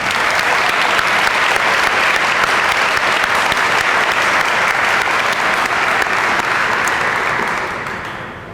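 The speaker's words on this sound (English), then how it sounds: "can we give them a big round of applause?" A large audience at an end-of-summer youth celebration claps in loud, dense, sustained applause that holds steady for several seconds, then tapers off toward the end.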